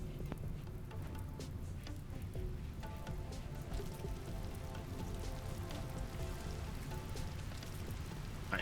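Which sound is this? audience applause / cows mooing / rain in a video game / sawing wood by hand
rain in a video game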